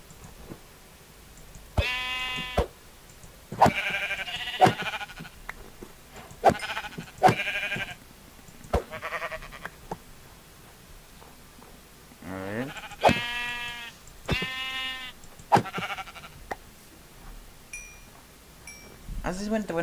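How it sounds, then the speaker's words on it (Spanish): Sheep bleat repeatedly outdoors, a series of close, wavering cries coming at irregular intervals over about twenty seconds. Several calls overlap and vary in pitch, with quiet gaps between them. "Mira, que hay ovejas."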